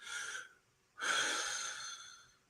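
A person breathes heavily, with two loud, close breaths, a short one followed by a longer, drawn-out one after a brief pause.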